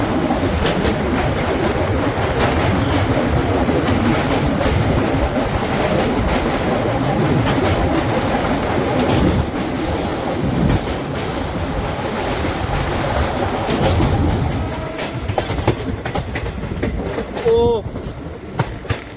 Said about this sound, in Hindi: সুপার ট্রেন, এটা হচ্ছে সুপার ট্রেন। মারাত্মক ট্রেন, 140-এ চলে।